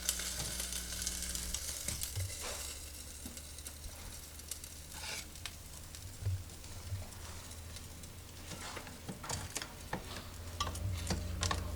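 Waffle batter sizzles steadily inside a flip waffle maker, a soft continuous frying hiss with occasional faint ticks and clicks, no voices.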